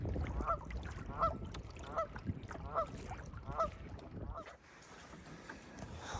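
Several geese honk in a regular series of calls over a low, rumbling outdoor background, fairly close, with the calls fading out near the end.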